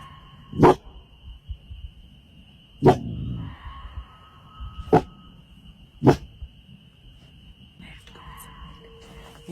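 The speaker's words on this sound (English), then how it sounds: "Her dog suddenly starts barking as something horrifying is captured on camera." A dog barking outdoors in the Appalachian Mountains, four sharp single barks spaced about two seconds apart, fairly close, over a steady high electronic tone and faint background murmur.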